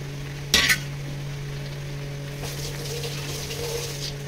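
Fried potatoes stirred into chicken curry masala in a pan, with a sharp scrape of the spoon near the start followed by a soft, steady sizzle and faint stirring with no talk.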